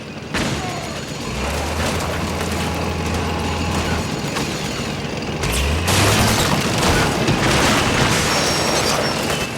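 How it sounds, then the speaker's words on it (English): Rebels' armored dozer in Metal Gear Solid 4 rumbling amid a battle, a deep low engine drone rising and falling under clanking mechanical noise and bursts of gunfire. "the rebels have got an armored dozer"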